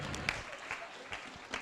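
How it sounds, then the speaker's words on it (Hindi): Audience at a Jain religious discourse applauding in welcome, a brief, faint patter of clapping that continues steadily throughout. "तालियां बजाकर अभिनंदन है"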